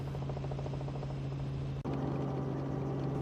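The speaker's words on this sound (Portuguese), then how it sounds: "O jato presidencial levantou voo para São Paulo às 5:30 da tarde." A presidential jet takes off for São Paulo, its engine a steady loud drone with a constant low hum, briefly cutting out before resuming at full strength.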